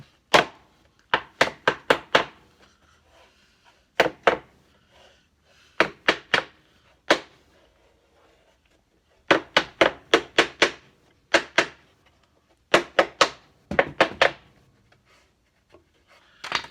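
Sharp hammer strikes drive nails into wood in quick bursts of three to five blows, with short pauses between groups, close and loud with no talking.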